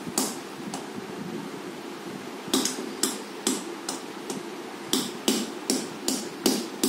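A hammer gently tapping a red clay money pot to crack it open, a string of sharp, close knocks, at first sparse and then coming in a steady, regular rhythm, with no talking.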